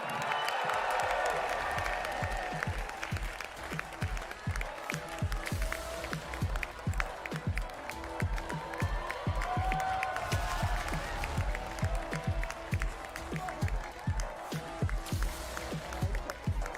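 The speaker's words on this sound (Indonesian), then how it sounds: "Kita sambut dengan tepuk tangan." An indoor audience at a PSI party event claps to welcome new chairman Kaesang Pangarep, steady applause with many distinct hand claps and a low murmur that carries on throughout.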